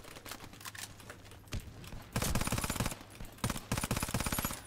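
Rapid automatic bursts from a suppressed Uzi Pro SMG in Warface, two long fast-rattling strings of shots after scattered single cracks, crisp and close.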